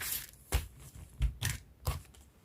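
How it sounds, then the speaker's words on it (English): Scissors cutting swimsuit fabric for the front pieces: a few crisp, close snips in uneven bursts, with quiet rustling of the fabric between cuts. "I will trim off the neckline for the back, then I will place it on the fabric and cut out the fronts"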